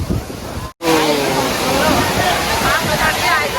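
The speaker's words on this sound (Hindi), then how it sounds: "सो फाइनली हम पहुंच गए हैं सबसे बड़े वाटरफॉल के पास।" Large waterfall at Kempty Falls in Mussoorie in freezing winter, a loud, dense, continuous roar of crashing water close by after a brief cut, with a crowd's murmur faintly mixed in.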